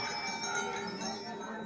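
Many temple bells ring together at Chitai temple in Uttarakhand, a dense, sustained metallic clanging with shimmering overtones, close and loud.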